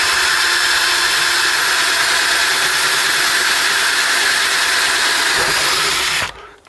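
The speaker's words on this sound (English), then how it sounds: "So I'm just going to countersink it at this side, and we're in business" A power drill spins a countersink bit into a hole, a loud, steady, high whirring grind close by that runs unbroken for about six seconds and then cuts off sharply.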